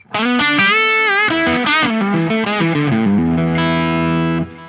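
An electric guitar on its bridge humbucker plays a heavily distorted melodic lead through a Laney amp, sustained notes sliding and bending up close before ending on a held note that cuts off.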